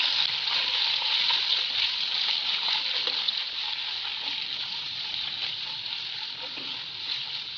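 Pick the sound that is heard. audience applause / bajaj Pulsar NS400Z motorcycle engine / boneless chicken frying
boneless chicken frying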